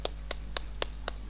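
Sharp hand claps at a villupattu storytelling performance, five or six evenly spaced claps about a quarter second apart over a low steady hum, crisp and moderately near.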